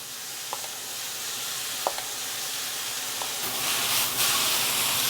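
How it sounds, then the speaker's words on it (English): Harissa vinaigrette hitting a hot pan of seared halloumi and broccoli, a steady sizzle with a few light clicks, swelling into louder hissing steam near the end. "we're just going to add some of our harissa vin straight into the pan"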